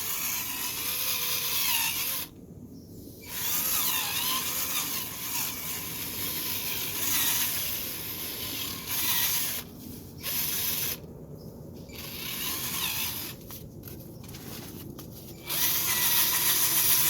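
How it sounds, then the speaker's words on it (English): A cordless power drill bores into garden soil to make holes for planting onions, giving several short bursts of whirring separated by brief pauses over steady outdoor background noise. "let me get my drill"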